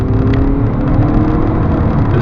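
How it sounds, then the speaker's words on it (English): Audi A4 TDI quattro from 2011 cruising on a motorway, with a steady, loud low drone of diesel engine and road noise heard from inside the cabin and no talking. "as we drive along the motorway, there is a bit of road noise, but it's just coming from the engine"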